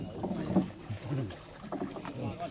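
Small boat motoring along the Ogan River at Desa Blatung, Lubuk Batang, with low engine and water rumble, wind buffeting the microphone and faint voices of the group aboard.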